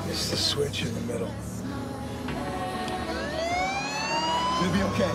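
A wailing siren with rising and falling sweeps sounds over a steady rumble, with talk and commotion underneath.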